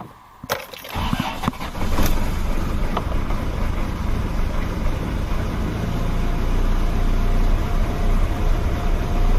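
A Ford 4x4 diesel engine cranks and catches with a sharp start, then settles into a loud, steady idle with an uneven, slightly misfiring rumble that carries on to the end.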